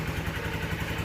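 A 2023 Honda XR150L motorcycle engine idles steadily and close by, a rapid even thumping pulse running throughout, not yet warmed up.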